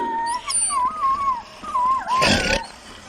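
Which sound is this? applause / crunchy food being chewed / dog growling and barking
dog growling and barking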